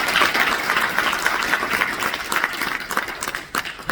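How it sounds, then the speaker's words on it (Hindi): An audience at a Delhi book launch event applauds loudly for Chief Minister Rekha Gupta, a sustained, even wash of many hands clapping that continues the whole time and thins slightly toward the end. "एक बार जोरदार तालियों के साथ।"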